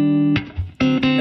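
Electric guitar run through reverb and delay plugins: a few sustained plucked notes and chords, each ringing out with a washy tail and echoing repeats between them, clean and close with no voice.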